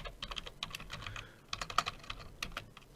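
Someone types on a computer keyboard, producing close, crisp clusters of rapid key clicks in short bursts separated by brief pauses.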